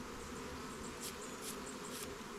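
Honey bees swarm around hive frames being checked for honey, a soft, continuous buzzing hum with a few brief brushing swishes near the mic.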